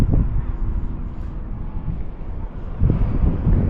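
Gusty wind buffets the microphone outdoors on a windy day while an RC Sbach stunt plane flies, a loud, low rumbling roar that surges at the start and again near the end. No voices are heard.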